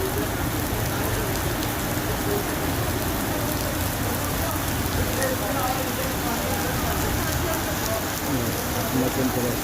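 Heavy rain falls at night in Medina, a dense, constant roar of drops hitting surfaces close by, with a voice faintly present beneath the downpour.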